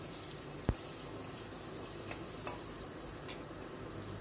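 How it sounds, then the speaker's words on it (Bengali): Cut potatoes stir-fry in a pan for a Bengali cabbage curry, giving a faint continuous sizzle with a sharp clack of the spatula and a few soft scrapes. "কেটে রাখা আলুগুলো দিয়ে আলুগুলো একটু নেড়ে চেড়ে ভেজে নেব।"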